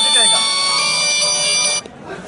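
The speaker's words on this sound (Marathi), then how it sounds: "आता या मोबाईलवरती थोड्या वेळात फोन येणार." A mobile phone rings with an incoming call from an automatic farm water-pump controller that has shut the pump down over a phase fault; a loud, close ringtone melody plays for under two seconds, then cuts off.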